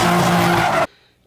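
A car skids with loud squealing tires for under a second, close and harsh, then cuts off abruptly to near silence.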